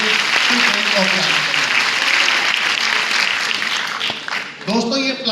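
A crowd at a business recognition event in Lucknow claps loudly and continuously, a dense roar of applause that dips briefly near the end and then picks up again.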